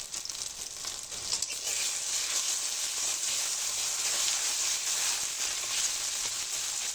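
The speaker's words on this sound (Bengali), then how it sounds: "মশলাটা আমার খুব ভালো করে ভাজা হয়ে গেছে" A paste of ginger, garlic, cumin, salt and turmeric fries in hot oil, giving a steady, close, bright sizzle that runs unbroken throughout with no one talking.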